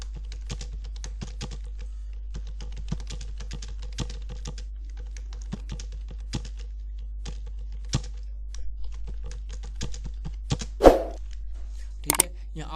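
Keystrokes clatter steadily on a computer keyboard as someone types Urdu text in InPage 2021, an irregular run of close, light clicks with a couple of sharper knocks near the end, no voices.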